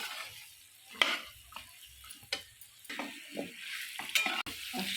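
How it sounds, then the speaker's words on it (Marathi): Moringa drumstick pods sauté in a shallow oil tempering with a soft, faint sizzle. Sharp spatula scrapes and taps stand out now and then over a fairly quiet background. "शेंगा चांगल्या भाजून घ्यायच्या आहेत फोडणीमध्ये"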